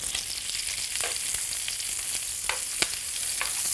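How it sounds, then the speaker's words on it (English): Butter sizzles in a frying pan alongside mackerel and bacon fat, a steady close hiss broken by a few sharper pops and crackles. "then I'm going to put a wee bit of butter in it, the other side of the pan"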